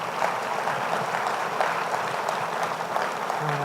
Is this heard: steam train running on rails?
no